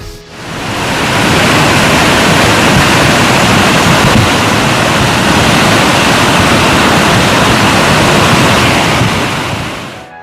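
A sudden flash flood of black, muddy water carrying mud and timber from the meeting of two rivers on a mountain slope in Bondowoso, Indonesia, roars as a loud, continuous broadband rush with no talk.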